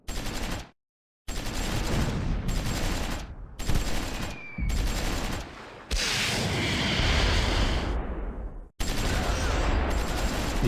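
Tank guns and small arms fire in the Close Combat 4 game, set in the Battle of the Bulge at Clerf in 1944, come as loud repeated bursts of shots and blasts broken by sudden silent cuts, with no speech.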